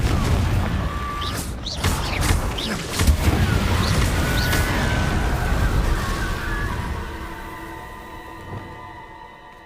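A Confringo fire-blast spell goes off in Hogwarts Legacy, a loud booming burst with crackling debris and a few sharp hits that trail into a fading rumble and ringing tones.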